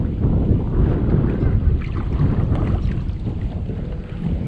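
A damaged outboard motor on a small boat runs at a constant loud drone, mixed with wind buffeting and water rush close to the microphone, with no voices.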